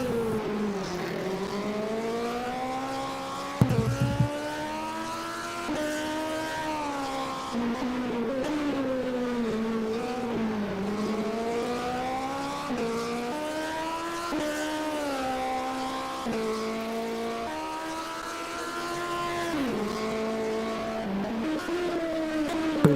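A Peugeot race car climbs the Ilirska Bistrica hill climb course of the European Hill Climb Championship, its engine wailing up and down through gear changes, with a brief sharp thump early on and sustained loud revving.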